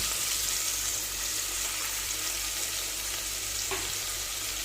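Chopped carrots and onion sautéing in a pan for beef biryani, a steady quiet frying sizzle with a brief stirring scrape near the end.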